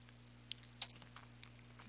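A few scattered keystrokes on a computer keyboard, typed as a command on a Linux machine; soft irregular clicks over a steady electrical hum, no voices.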